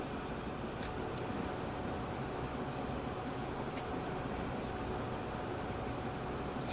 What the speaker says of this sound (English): That is our dedicated fuel, or not fuel, building supplies train right there.